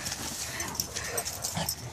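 Puppies whimpering and yipping close by over a steady noisy background, with faint voices mixed in.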